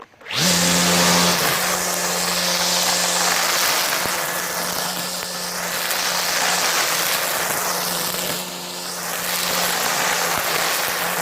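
A battery string trimmer hums at high speed, loud and steady after a quick start, its pitch wavering slightly as it cuts, with no talking.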